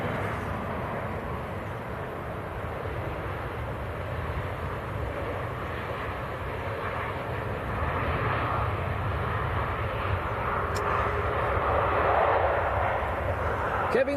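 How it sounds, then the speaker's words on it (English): Several jet airliners taxi out at Manchester Airport, heard as a steady, broad engine rumble and whine at middle distance that slowly swells toward the end, with no break in the drone. "Quite a few aircraft taxiing out as well"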